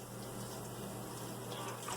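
Steady, faint swishing and churning of water as a makeup brush spins in a sink during cleaning, continuous and close with no voices.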